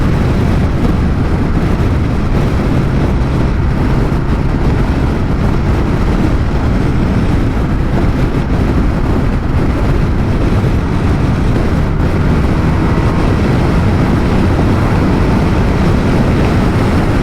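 A 2022 BMW R1250 RT motorcycle engine runs in a steady, loud, unbroken drone that blends with heavy wind rush throughout, with no talk heard over it.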